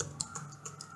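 Light, quick clicks of typing on a computer keyboard, a handful of separate taps spread over a second, fairly faint and close with no talk.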